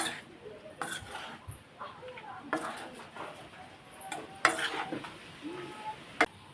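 Mango pickle being hand-mixed with salt and mustard oil in a bowl gives soft, irregular scraping and stirring sounds with scattered light clinks of a utensil against the container, close by and fairly quiet.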